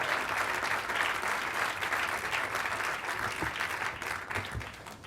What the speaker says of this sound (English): let's give Tom Cochran and the staff a round of applause